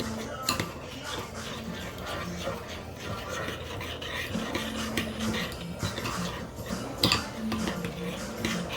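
Honey glaze ingredients for salmon are mixed in a kitchen bowl, with soft rubbing and scraping strokes and occasional sharp clinks of a utensil against the dish.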